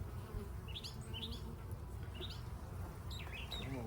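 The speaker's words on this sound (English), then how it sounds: "I don't know if you can hear that on the camera, but there's lots of buzzing going on once they get that smoke in" Honeybees buzz steadily around a smoked hive during an early-season hive inspection outdoors, a dense continuous drone with a few bird chirps over it.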